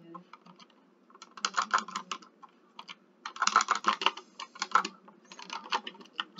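Bursts of clattering keystrokes on a broken computer keyboard, typed in irregular clusters with short pauses between them, close and fairly quiet, with no voices.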